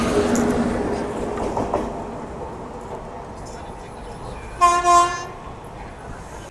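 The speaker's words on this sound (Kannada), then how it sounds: "ಅಯ್ಯೋ ಟ್ರೈನ್ ಅನ್ಕಂಡೆ, ಅಲ್ಲ ಇಂಜಿನ್ ಇದು" A passing railway locomotive engine near Kengeri on the approach to Bangalore, heard from aboard a Mysuru–Kacheguda express, gives a short loud horn-like tonal blast after a stretch of rumbling rail noise, with talk at the start.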